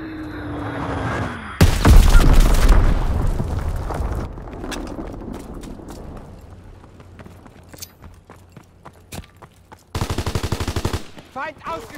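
Call of Duty WWII battle with rapid machine-gun bursts and loud gunfire blasts, a heavy explosive burst from a dropped Fritz X bomb, and a voice speaking in between.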